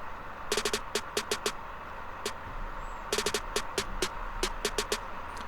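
Trap snare roll from a Luger snare sample, bursts of rapid crisp hits in quick clusters with gaps between, moderately loud over a faint noisy bed.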